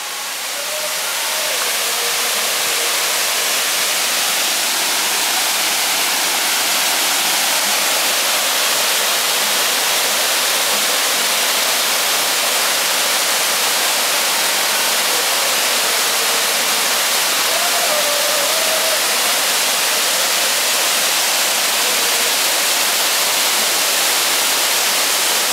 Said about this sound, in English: But that's how you get in the waterfall.